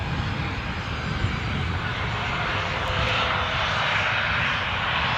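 A passenger jet departs Newcastle Airport on a breezy day, its engines a steady, loud broadband roar that fills the whole stretch without any break or talk.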